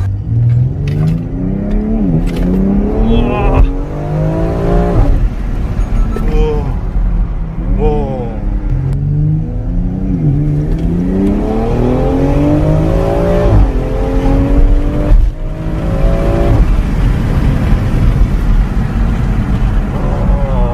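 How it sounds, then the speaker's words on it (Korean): A tuned BMW X3M SUV rated at about 600 horsepower revs hard through repeated downshifts and pulls, its loud engine note rising and falling close by, with people talking over it. "와, 다운시프트 소리."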